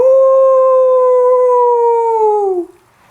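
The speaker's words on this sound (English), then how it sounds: "By their great speed and the short yells which they occasionally gave, I knew at once that these were the much dreaded grey wolves." A grey wolf's long, loud howl holds one steady pitch, sliding downward and cutting off near the end, close and alone with no other sounds.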